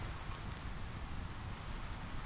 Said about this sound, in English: the rain begins to pelt down around me, drumming rhythmically on the roof